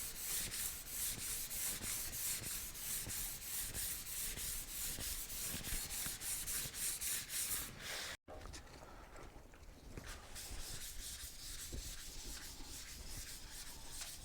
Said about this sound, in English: So the wet sanding begins.